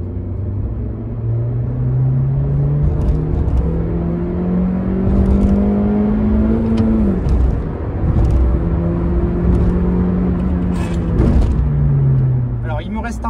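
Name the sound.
Honda Civic 1.8 i-VTEC petrol engine accelerating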